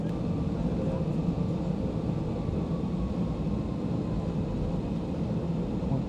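A small Lufthansa airliner taxiing at Frankfurt airport, heard as a steady low engine rumble and broadband roar that holds evenly throughout, likely from inside the cabin.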